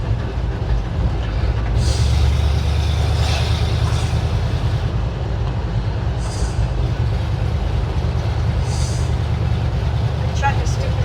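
A truck drives along a road, giving a steady, loud low rumble of engine and road noise throughout, with a few brief higher hisses and people talking over it.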